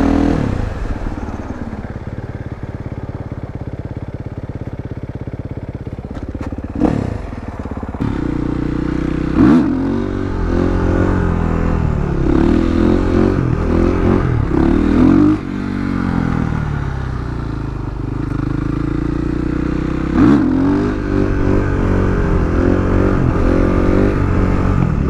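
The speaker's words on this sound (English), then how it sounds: "and I'm gonna go do a few wheelies." A supermoto motorcycle doing wheelies revs up and down repeatedly, its engine pitch climbing and falling in several surges. The bike sounds fairly close, with occasional clatter and scraping underneath.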